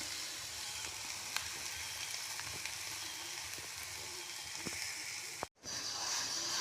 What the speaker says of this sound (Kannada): ಇದೊಂದು ಸ್ವಲ್ಪ ಫ್ರೈ ಆಗಲಿ ರೀ